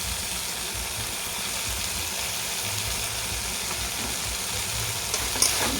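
Mixed vegetables fry in a pan as they are stirred, a steady dense sizzle running throughout with a brief utensil clink near the end.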